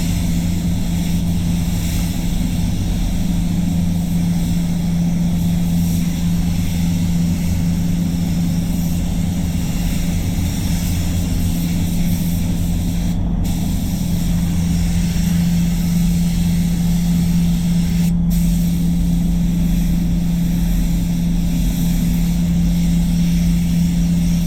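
A spray gun paints the inside of a Mazda 3 with a loud, continuous hiss and a steady low hum throughout, and no one speaks.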